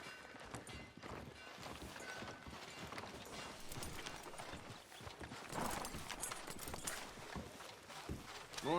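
Horse hooves clip-clop at a steady walking pace amid busy ambient clatter in a town street in Red Dead Redemption 2, with no talking over them.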